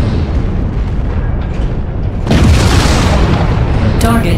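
Loud explosion of a destroyed target in a military video game, a steady rumbling roar that swells into a bigger, harsher blast partway through and keeps booming, with a sharp crack near the end.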